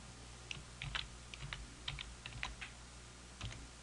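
Faint typing on a computer keyboard during word correction in Dragon Medical Practice Edition, scattered keystrokes in short uneven bursts over a steady background hiss.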